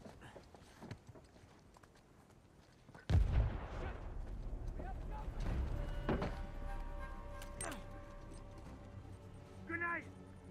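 Gunfire in the video game Uncharted 4: A Thief's End, a sudden loud burst followed by a series of sharp shots and impacts with busy background action and a final quick rattle.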